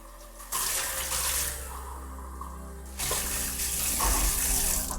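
Water runs from a kitchen tap to rinse out a measuring cup, a close splashing rush that surges, eases as the flow shifts against the cup, then gushes louder again, with no talk.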